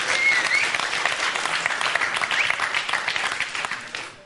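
Church congregation clapping together, steady and fairly close, holding even for a few seconds before easing off at the end.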